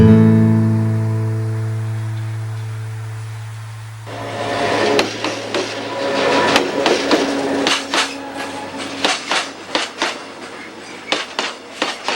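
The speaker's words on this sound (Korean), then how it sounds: "화물열차 소음 진동으로 밤낮 시달리고 있지만" A loud, steady low rumble of a passing freight train right beside homes along the track fades into repeated metallic clanks and bangs of rolling cars, close by.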